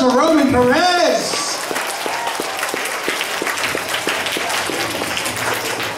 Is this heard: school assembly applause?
yes